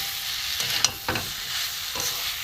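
Banana stem frying with chili, coriander and cumin powders in a pan for a vegetarian mustard-paste dish, a soft steady sizzle broken by a few scraping stirs, up close and without speech.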